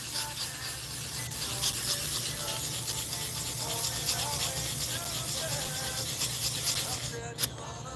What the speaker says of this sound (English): Just polishing up our own little custom key here. Working it with the 600 grit.